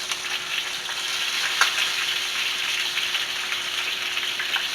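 Flour-dredged pork chops frying in a pan, a steady, even sizzle and crackle with a faint pop partway through, close and alone without talk.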